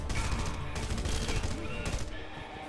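Dense, continuous gunfire from Red Faction Guerrilla Remastered fills the whole moment, a loud rattle of rapid shots during a fight against EDF troops holding hostages.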